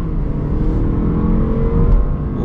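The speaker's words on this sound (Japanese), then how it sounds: "加速、床まで加速。" A Lexus IS300 F Sport with a 2-litre turbo engine accelerating hard at full throttle in Sport S+ mode, a loud, steady engine drone heard from inside the cabin.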